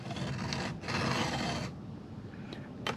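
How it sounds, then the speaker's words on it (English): A hand file rasps across a chainsaw tooth in gentle strokes, two or three close scraping passes with short pauses between them, fairly quiet. "Give it about 5 good strokes with the file."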